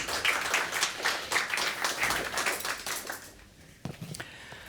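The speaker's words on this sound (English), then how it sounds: "please let's give us a round of applause for Bruno" Audience applause for a speaker at a security conference, a brisk round of many clapping hands that thins out and fades after a few seconds, leaving a few scattered claps.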